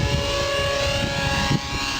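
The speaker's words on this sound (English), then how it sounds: "Awesome helicopter." A radio-controlled model helicopter flies low at an RC flying field, giving a loud, steady whine and rotor drone that holds constant across the moment with no voices.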